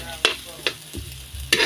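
Garlic and ginger toast in a hot pan, with several sharp scraping stirs punctuating a low sizzle, heard up close with no voices.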